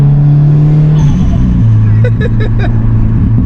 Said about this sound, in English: Classic HKS blow off valve.